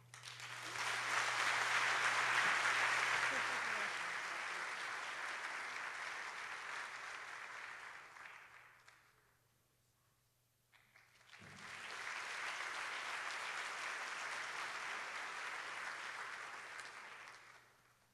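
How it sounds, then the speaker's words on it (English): Sustained applause from an audience at a geochemistry conference plenary honoring an award recipient, filling two long stretches separated by a brief quiet gap, with a low steady hum underneath. "Let's give a round of applause to Bill Casey for receiving the 2016 Clair Patterson Award."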